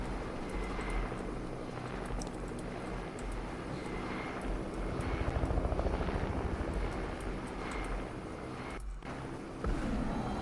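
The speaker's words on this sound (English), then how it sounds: "Oh no, not a freaking helicopter, dude. I hate helicopters." A helicopter drones steadily nearby in the Fortnite video game, a continuous rotor and engine roar that swells slightly in the middle and holds for about ten seconds.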